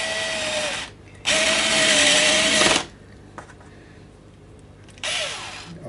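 A power driver set to low torque drives a screw into a guitar scratch plate on a Telecaster-style partscaster: two loud, close whirring bursts, then a brief break and a third burst, with a faint click between them.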